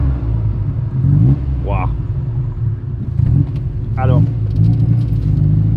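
Engine of an Alfa Romeo Spider 1750 rumbles after starting, with a steady idle broken by a couple of short revs, close and loud, while someone speaks briefly over it.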